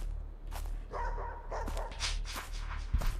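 A dog barks in a few short yelps within the horror video game Playback Trauma: The Dog, set in a dark forest, the barks fairly near and sharp against a low ambient hum.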